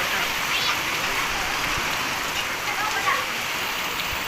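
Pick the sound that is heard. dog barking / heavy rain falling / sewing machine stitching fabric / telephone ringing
heavy rain falling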